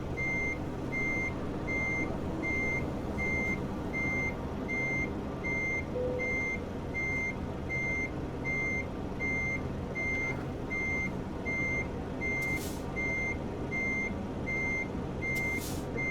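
Reversing beeps from a truck in American Truck Simulator sound at an even, regular rhythm over a steady engine drone for the whole stretch, without speech.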